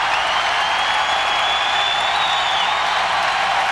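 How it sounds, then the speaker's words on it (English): Hockey arena crowd at the 1998 Calder Cup win, a loud, continuous roar of cheering and applause filling the space without a break. "Listen to this crowd. It's wonderful."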